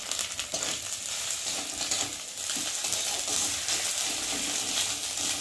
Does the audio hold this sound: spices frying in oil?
yes